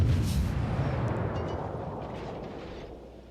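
Heavy naval gunfire from a World of Warships battle, aimed at a Tirpitz: a deep booming blast at the start whose rumble rolls on and slowly fades, loud and close, with no voices.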